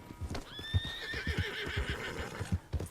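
A horse in Red Dead Redemption 2 gives a long, high whinny over a run of close, hollow clip-clopping hoofbeats, the neigh rising and wavering before fading as the steps continue.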